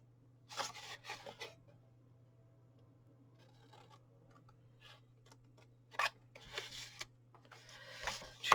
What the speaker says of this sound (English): So just get your scissors